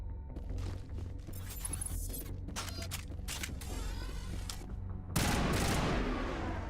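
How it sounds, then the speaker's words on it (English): Assault rifle fire in the Mass Effect video game, with short bursts of shots over a steady game soundtrack, ending in a louder burst of gunfire near the close. "the new assault rifle is a burst"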